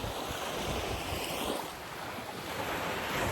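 Ocean waves wash steadily onto the shore at Pagkawasan Beach Resort, a continuous broad surf roar with wind buffeting the microphone and no voices.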